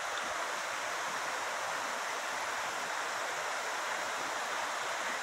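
Steady, dense rush of falling water from Munson Creek Falls in Oregon, a continuous broadband roar heard alone with no talking, even and unbroken throughout.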